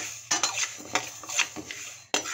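Roasted moong dal is scooped off a pan with a metal spoon, giving a few sharp clinks and scrapes of utensil against the pan over a low background hiss.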